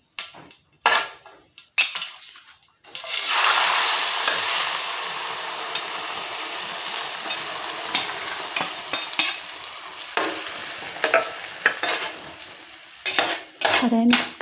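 Cooked green gram dropped into a hot cumin, curry leaf and turmeric tempering sends up a loud burst of sizzle, then a long simmering hiss under repeated metal spoon scrapes and clinks against the pot.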